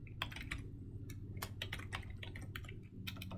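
Rapid typing on a computer keyboard while entering a first and last name into a sign-up form, with steady clustered keystroke clicks over a low background hum and no talking.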